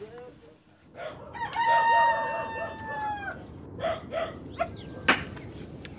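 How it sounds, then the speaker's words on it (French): A rooster crows once at moderate distance at a rural stay in Indonesia, a long, bright cock-a-doodle-doo rising out of quiet outdoor ambience, followed by a few shorter clucks and scattered small noises. "Le coq chante à 4h15 ce matin."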